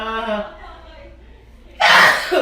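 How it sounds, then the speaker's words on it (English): A woman lets out a single loud, abrupt sneeze near the end, following a stretch of quiet talk with a low background hum. "That's what it sounds like when I sneeze."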